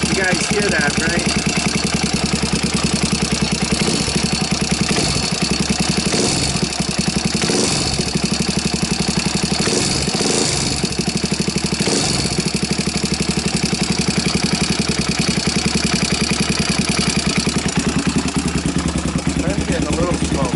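A Honda TRX 300EX ATV engine idles continuously and close by with the choke on, giving a steady mechanical putter with a ticking valve-train clatter running underneath for the whole stretch.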